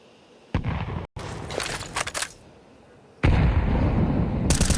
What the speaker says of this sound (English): That's a sick nade.